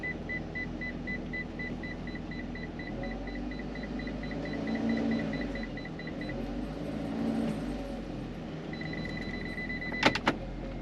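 A Ram Promaster van with a 62TE transmission reversing a short distance, a steady repeating reverse-warning beep over low engine hum, stopping partway then resuming, with a couple of sharp clicks near the end.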